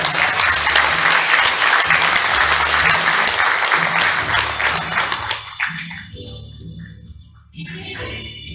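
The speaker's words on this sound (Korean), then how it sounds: "큰 박수로 환영해 주시기 바랍니다" A crowd claps loudly and steadily for several seconds at a White Cane Day ceremony, then the applause fades out as a low hum and a few stray sounds remain.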